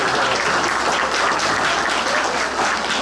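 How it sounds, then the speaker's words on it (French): A crowd applauds at a cosplay contest during a fan convention, producing steady, loud, dense clapping throughout. "On peut l'applaudir."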